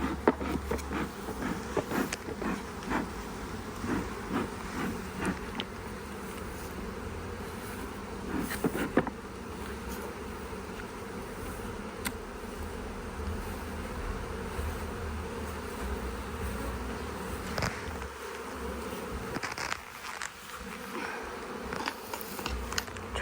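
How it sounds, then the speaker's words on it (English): A bee drones and buzzes around someone working outdoors. The steady hum carries on for over twenty seconds, swelling and fading as the insect drifts closer and farther away. "There's a bee wondering about me."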